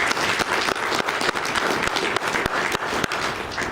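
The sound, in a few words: audience applause at a BNI meeting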